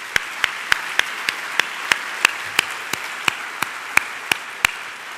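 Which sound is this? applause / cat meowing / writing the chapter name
applause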